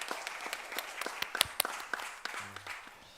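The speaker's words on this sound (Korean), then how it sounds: "하나님께 영광의 박수 올려드리겠습니다." A church congregation's applause after a Korean sermon prayer, a few seconds of soft, uneven clapping with individual sharp claps standing out and no talking.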